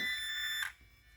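A single high-pitched electronic beep from an RC car controller on the Typhon Grom BLX, sharp and steady for about half a second before cutting off into quiet.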